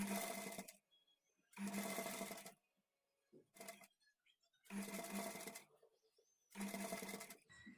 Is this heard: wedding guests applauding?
no